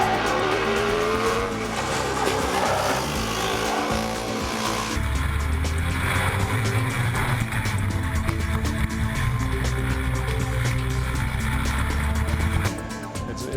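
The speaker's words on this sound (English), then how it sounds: "Here's a look at the engine in action." A 65 HP TaG kart racing engine runs loud and close with a harsh, continuous buzzing drone that jumps to a higher, more intense pitch partway through and holds there, with no voices.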